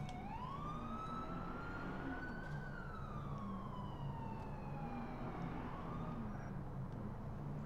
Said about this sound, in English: What is this dumb ambulance doing?